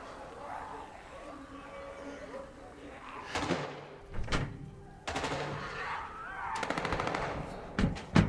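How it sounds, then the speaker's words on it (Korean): Gunfire in a zombie-virus horror film, with sharp shots and rapid machine-gun bursts crackling loudly in several volleys over a tense background where voices are heard. "그 정막을 깨뜨리는 총성이 울려 퍼집니다"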